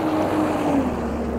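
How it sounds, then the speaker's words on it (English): A loud truck passes on a city street in the Bowery neighborhood of New York City, a steady low engine rumble and road roar filling the whole moment close by, with no talk over it. "That's a loud truck."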